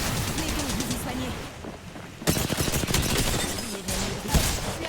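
Gunfire in the game Apex Legends, dense rapid shots and impacts clattering in bursts, with a player talking over the action.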